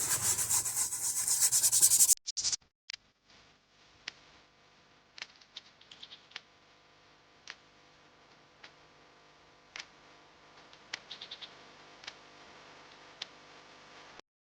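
A brush scrubs a car dashboard with shampoo solution: about two seconds of loud, close scrubbing stop abruptly, followed by quiet with scattered faint ticks and taps.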